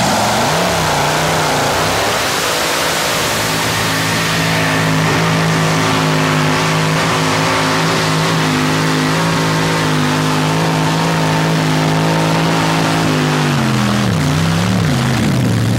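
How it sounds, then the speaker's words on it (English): A 1938 Ford pulling truck powered by a 426 Chrysler Hemi roars loudly and steadily under load on dirt at a truck pull, its engine note holding a sustained strained pitch before dipping and revving near the end. "it's a 38 Ford, 426 Chrysler Hemi engine"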